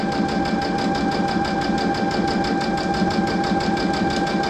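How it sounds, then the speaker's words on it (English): A sewing machine stitches a placemat seam a little more than a quarter inch in, giving a close, continuous, even mechanical whir with a fast steady pulse throughout. "So then I'm gonna sew down to like a little more than 1/4 of an inch."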